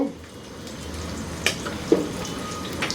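Spring onion stems sizzle in about one and a half tablespoons of hot oil over high heat, a soft, steady frying hiss with a few light clinks close by.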